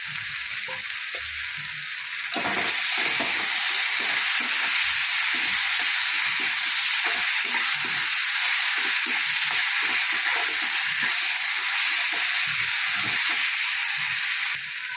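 Ginger garlic paste sizzles and fries in a hot pan, giving a loud, continuous hiss that grows stronger after a couple of seconds, with faint scraping stir sounds underneath.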